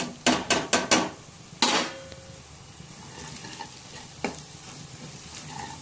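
A spoon stirs a masala of garlic, cumin powder, garam masala, coriander powder and chili powder in a pan for dry fish curry: a burst of sharp metallic taps, then quieter scraping with a soft sizzle and one more clink.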